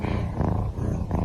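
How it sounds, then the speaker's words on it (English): A large cat purrs in a steady, deep, continuous rumble close to the microphone, with slight pulsing in the rhythm and no voices over it. "Still just purring away."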